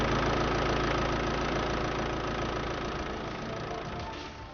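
A 1989 Austin Maestro with the MDi high-speed direct-injection diesel engine idles steadily, a close, loud, even clatter with a low rumbling throb and no voices.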